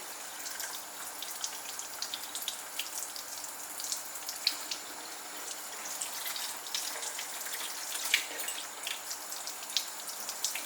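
Lukewarm tap water runs to clean brushes, a faint, steady spattering trickle into a sink with small irregular drips and splashes throughout, no voices.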